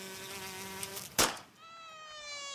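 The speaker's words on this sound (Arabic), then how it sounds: "دي دبانة موتها بتضايقني" A fly buzzes with a steady, thin, high drone that runs through the whole clip, briefly broken by a short noisy burst in the middle, in a quiet room.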